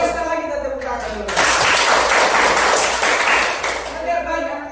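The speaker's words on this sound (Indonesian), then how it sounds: "sekali lagi kita tepuk tangan dulu" A classroom of pupils clapping their hands together on the teacher's cue, a loud dense burst of clapping lasting around three seconds, with a voice speaking just before and as it fades.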